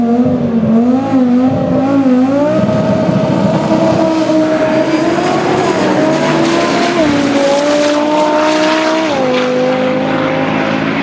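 Volvo 142 drag car revving hard in a smoky burnout on a Swedish drag strip, a loud sustained engine roar with rising and falling pitch and harsh tire noise running throughout.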